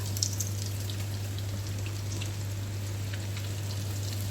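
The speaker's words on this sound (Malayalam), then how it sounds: "നമുക്ക് ഇതിനകത്തോട്ട് കുറച്ച് കുറച്ച് ഇട്ട് കൊടുത്ത് നമുക്കൊന്ന് ഫ്രൈ ആക്കി എടുക്കാം" Squid pieces fry in hot oil with a steady, close sizzle and light popping that holds the whole time over a low electrical hum, with no voices.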